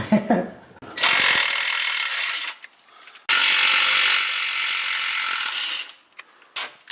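A ratchet socket wrench turns a bolt out while shifter bushings are fitted to a car. It makes two long, loud, close bursts of rapid clicking separated by a short pause, with a few faint handling knocks around them.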